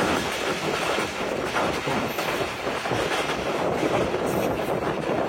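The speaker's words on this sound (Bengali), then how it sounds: "এইমাত্র ঢাকাগামী সুরমা কোন মেল ট্রেনটি আমাদের অতিক্রম করে গেল।" The Surma Mail, a Dhaka-bound passenger train, roars past at close range in a dense, continuous rush of wheel clatter and wind, heard loud from a moving commuter train.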